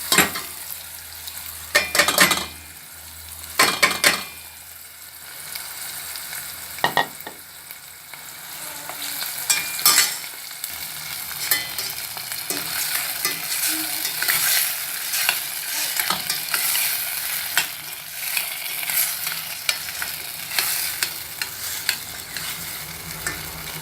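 Chopped onions frying in a pan with chicken broth cubes for a Somali breakfast of canjeero and stew, with steady sizzling and repeated scraping stir strokes of a utensil against the pan, close and loud, no talking.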